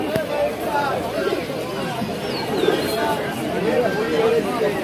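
Pigeons coo at a crowded pigeon market in Shibpur Putia bazaar, their soft calls blending into a steady background of crowd chatter and speech throughout.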